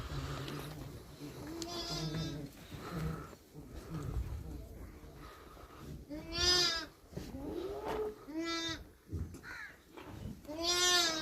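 Goats and other small livestock in a village animal pen give several loud, wavering bleats, spaced irregularly and some overlapping, while people talk nearby.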